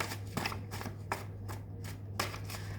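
Handmade tarot cards being shuffled at close range, a series of quick riffling bursts at regular intervals over a faint steady hum.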